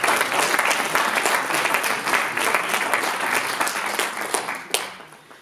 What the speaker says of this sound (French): je demande à ce qu'on applaudisse